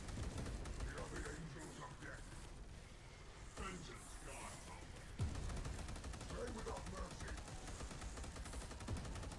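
Rapid automatic gunfire and repeated blasts rattle on continuously in the video game Space Hulk: Deathwing, mixed with game effects and a player's voice speaking over the fighting.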